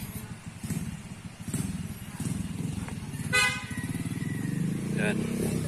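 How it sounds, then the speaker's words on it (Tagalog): A motorcycle engine runs nearby with a throbbing rumble under people talking, while a vehicle horn toots briefly midway. "yun yung motor natin."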